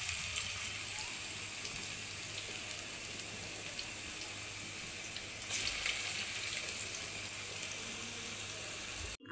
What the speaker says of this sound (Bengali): পাকোড়াটা আমি লাল লাল করে ভেজে নিব।